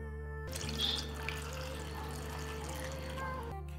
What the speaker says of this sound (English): I will pour water over the strawberries.